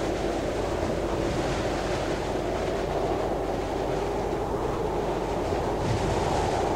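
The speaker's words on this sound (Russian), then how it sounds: "Тупой ветер." Wind roars steadily across a snowy mountain in the game Kholat, a dense, continuous rushing noise at constant loudness with no let-up and no talk.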